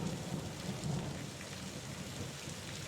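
Steady rain falls with low, rumbling thunder underneath, a dense, continuous wash of drops close by, heard alone without any voices.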